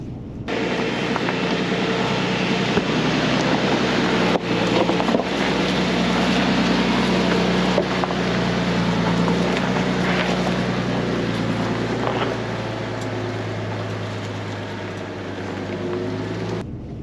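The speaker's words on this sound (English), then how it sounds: "This thing is super quiet when you're off-roading with crawl control now" A 2022 Toyota Tundra TRD Pro crawling off-road in crawl control, heard from inside as a steady low drivetrain drone with a broad wind-like rush and occasional faint knocks, loud and continuous without talk.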